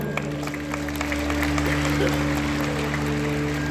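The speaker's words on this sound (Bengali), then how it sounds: "একবার জোরে হাততালি হোক।" An audience claps at a music and culture award ceremony, a steady patter of hands over a constant low hum from the hall's sound system.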